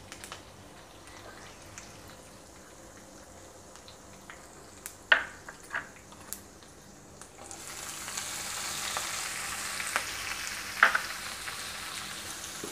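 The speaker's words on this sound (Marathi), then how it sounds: "आता आपण कांदा घालून घेऊया ह्याच्यामध्ये" Onion added to a pan of frying stuffed eggplant masala, with mint leaves already in, gives a faint sizzle broken by a few sharp spatula clicks, then a fuller steady frying hiss that continues to the end, with no voices.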